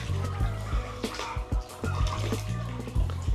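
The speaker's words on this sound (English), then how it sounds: "You can only hear the water" Water laps and sloshes gently around a round woven coconut basket boat drifting through a coconut palm forest in Hoi An, Vietnam, with soft irregular splashes close by.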